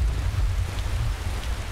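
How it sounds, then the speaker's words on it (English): Steady rain and a low thunderstorm rumble in Skyrim, heard as a dense wash of rainfall over a deep continuous roll of thunder, with no voices. "Okay, I think the storm is ending."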